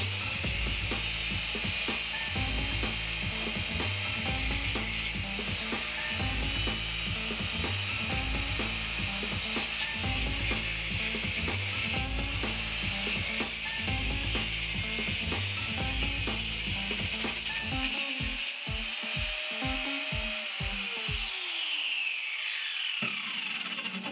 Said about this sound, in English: let's just take this angle grinder and we will cut the welds in this